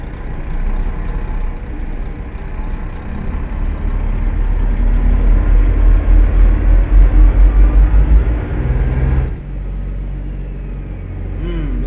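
A Greyhound bus idles with a deep, loud engine rumble that swells as it begins to pull off, then an air brake lets out a sharp hiss and the engine drops to a lower throb.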